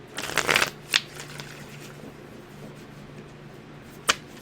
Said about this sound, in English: put the Rider-Waite cards back up and reshuffle the deck